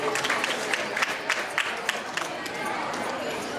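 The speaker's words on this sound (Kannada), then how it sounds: "ದಯವಿಟ್ಟು ಚಪ್ಪಾಳೆ ಮೂಲಕ ಅವರನ್ನು ವೇದಿಕೆಗೆ ಸ್ವಾಗತಿಸಬೇಕಾಗಿ ವಿನಂತಿಸಿಕೊಳ್ತಾ ಇದ್ದೇವೆ" An audience at a bhajan mandali stage event claps to welcome performers, a steady patter of applause with crowd chatter mixed in at moderate distance.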